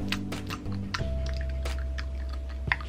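Mouth sounds imitating pencil nomming, made close up and quietly: a few short, moist clicks and soft chewing-like taps over a faint steady hum.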